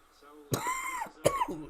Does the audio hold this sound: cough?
yes